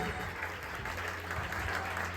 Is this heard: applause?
yes